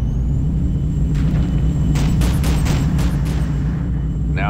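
Explosion in the war strategy game Ground Control 2: a heavy, sustained rumbling boom with several sharp crackling bursts in the middle, loud and continuous throughout.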